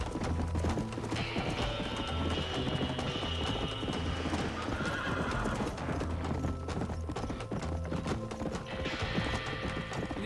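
Rhythmic clip-clop of horse hooves galloping steadily, with occasional whinnies, over a busy Red Dead Redemption soundscape with music and background noise.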